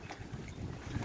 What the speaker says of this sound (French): il y a des rafales qui tombent déjà à 25-30 nœuds et puis ça reprend fort d'un coup à 40-50 nœuds